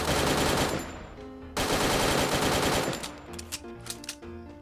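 AUG rifle in a mobile shooter game fitted with a chip 3 upgrade, firing long loud continuous bursts of rapid automatic gunfire with a brief break partway, then thinning into scattered shots, with no voices.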